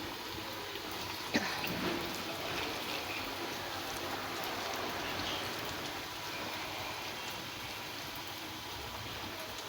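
Balls of khesari lentil flour batter sizzle in hot oil over medium heat, giving a steady, soft hissing crackle like light rain, with one brief clack near the start.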